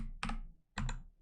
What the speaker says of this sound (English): let me finish typing it